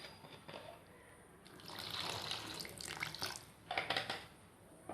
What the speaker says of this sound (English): And then we need to put some water in it.